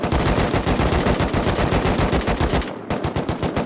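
Automatic gunfire in the survival game Rust rattles out as a loud, fast string of evenly spaced shots, cutting off briefly near the end before resuming, with no talking over it.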